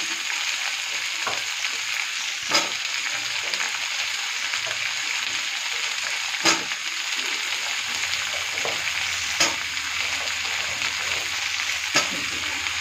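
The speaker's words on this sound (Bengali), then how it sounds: "এই সমস্ত সবজিগুলো এবার ভালো মতো ভাজা হবে।" Mixed vegetables with pumpkin fry in a pan with a constant, close hissing sizzle, while a utensil stirs and scrapes in occasional sharp knocks spaced a few seconds apart; no talking.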